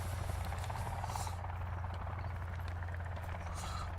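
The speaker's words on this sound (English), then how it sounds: "that helicopter is hanging about" A helicopter hovers nearby in the survival game Sons of the Forest, its steady low rotor drone running unbroken throughout at a fairly faint level.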